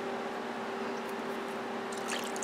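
Two cans of beef broth pouring into a crockpot, a steady liquid trickle with a faint tonal hum beneath it, ending with a few brighter splashes near the close, and no speech.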